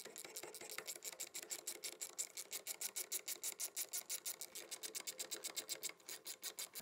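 Drill bit cutting through aluminium inside a BMW automatic transmission part, giving a close, steady run of rapid rhythmic grinding and rasping pulses that continues for several seconds with no voices.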